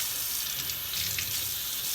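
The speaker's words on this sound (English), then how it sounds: "filling up the sink with water and just letting the fabric sit in there for a while" Water runs from a tap into a sink to fill it for soaking fabric during home dyeing, a steady close hissing gush with no voices.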